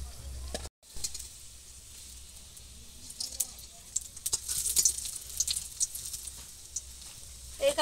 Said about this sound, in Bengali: এই দেখুন আমি এইভাবে বাকিগুলোও ভেজে নেব এইভাবে।